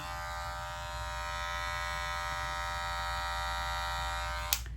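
A Wahl Super TaperX electric hair clipper runs with a steady, close, fairly loud buzzing hum, ending in a brief click.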